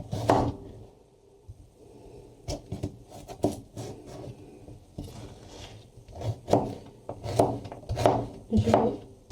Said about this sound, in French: Donc mes carottes, je les coupe en deux.